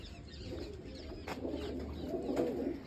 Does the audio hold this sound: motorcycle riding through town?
no